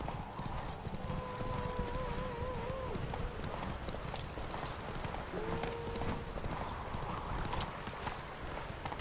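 Hooves of Roach the horse clip-clopping in The Witcher 3, a steady rhythmic trot under game music, with a few whinny-like tones mixed in.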